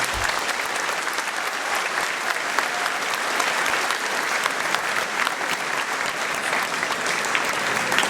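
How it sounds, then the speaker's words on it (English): An audience at a middle school event applauds its teachers and administration, a steady, dense wash of clapping from a full room that holds evenly for the whole stretch, with no speech over it. "please give them a round of applause for all that they do."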